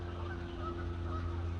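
Two geese flying overhead outdoors, their faint distant honks drifting above a steady low hum of background noise.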